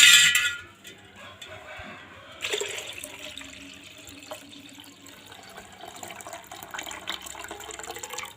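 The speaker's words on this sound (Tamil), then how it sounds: "நான் தண்ணி ஊற்றி ஊற்றி ஊற்றி அலசிக்கிட்டே கழுவிட்டே இருக்கணும்" Ration rice grains are swished and rinsed in a vessel of water for dosa batter, with a burst of pouring water at the start, then steady close sloshing and trickling that continues unaccompanied.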